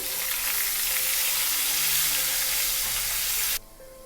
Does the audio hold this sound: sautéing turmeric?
yes